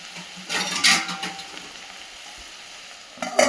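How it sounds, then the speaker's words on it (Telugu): Malabar spinach (bachali) frying in a pan: a steady soft sizzle with a couple of brief louder bursts of stirring or tossing, close by and with no talking. "బచ్చలి కూర తొందరగా వేగిపోతుందండి, అందుకని ఒక్క నిమిషం ఇలా వేయించేసి"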